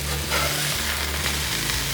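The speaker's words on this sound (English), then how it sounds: "let's flip this burger." A burger sizzles loudly and steadily on a Blackstone griddle right after being flipped. The hiss of the hot flat-top is close and continuous, with no talking.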